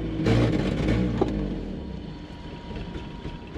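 A car engine running on Everclear 152-proof alcohol fuel revs and struggles, unable to climb past about 3,000 RPM; a loud, rough engine surge at the start fades to a steadier, duller running drone.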